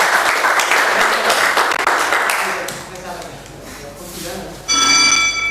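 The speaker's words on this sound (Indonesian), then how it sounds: "Ya boleh, tepuk tangan untuk Bapak B." A classroom claps for a student named Bapak B, a short burst of applause that fades into quieter room noise, followed by a brief ringing bell tone near the end.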